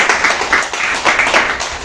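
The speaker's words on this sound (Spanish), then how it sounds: "Dale fuertes palmas a Cristo." Congregation at a Spanish-language church service clapping loudly together, a dense steady wash of many hands lasting a couple of seconds with slight swells, no talk over it.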